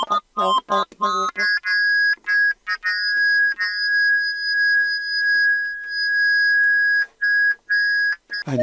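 No-input mixer feedback run through a flanger effect: bright, piercing sustained tones with steady high partials, broken up at first by rapid stuttering bursts, then holding loud and close with brief dropouts near the end.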